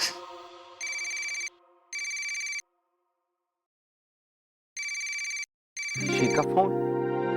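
A telephone rings in a home scene, with repeated electronic trills sounding in evenly spaced bursts separated by gaps and cut off after a few rings as louder tonal music comes in.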